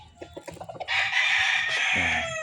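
A few short clucks, then a rooster crows loudly and close, a long drawn-out call ending in a lower trailing note.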